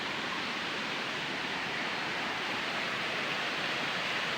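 Dampalit Falls near Mount Makiling in Los Baños, Laguna: falling water makes a steady, soft, even rush of broadband noise, heard from some distance with no other sounds.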